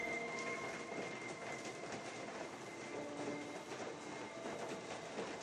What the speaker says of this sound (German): Klingt jetzt aber wie ein Zug, ne?